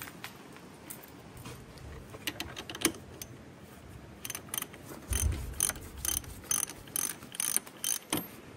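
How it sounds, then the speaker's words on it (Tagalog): Ratchet wrench clicking as it loosens the harmonic balancer bolt on an engine, a series of close, sharp ratcheting bursts growing denser toward the end, with no talk. "ganyan lang kasimple pagtatanggal ng tornilyo ng harmonic balancer"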